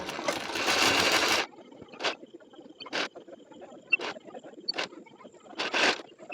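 A sewing machine runs in one sustained burst stitching the seam of a princess-cut blouse, then gives several short separated bursts of stitching, close and fairly quiet.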